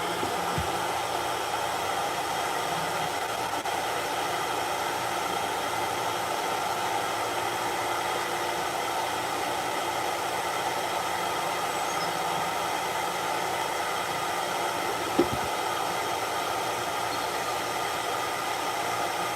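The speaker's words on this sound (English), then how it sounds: "we're just going to put him back in the dryer box" Steady, loud broadband whoosh of a pet dryer box blowing air on a cat during a grooming session, continuous and unbroken throughout with one brief knock near the end.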